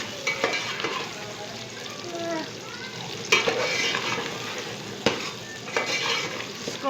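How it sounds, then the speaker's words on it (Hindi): Onions and potatoes frying while being stirred, a steady close sizzle with repeated scraping and clinks of a utensil against the pan. "इसको मिक्स कीजिए एंड जब तक हमारे प्याज गोल्डन हो जाए तब तक पकाना है"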